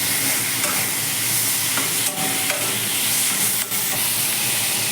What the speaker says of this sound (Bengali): এবার আমি এটাকে একটু নেড়ে দেবো, একটু জল দিয়ে দেবো আদাটা কষিয়ে নেওয়ার জন্য